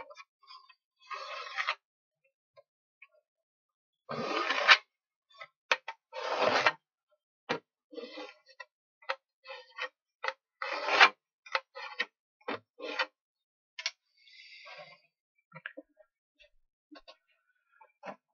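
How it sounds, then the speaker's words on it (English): Someone marks all around the inside of a plywood camping chuckbox before gluing, producing short, scattered scratching strokes separated by silent gaps. "I am going to mark inside all around in order to know where to apply the glue onto the plywood bottom."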